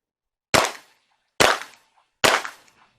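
Three single Springfield XD-M pistol shots, evenly spaced about a second apart, each a sharp crack with a short decaying tail over near silence outdoors.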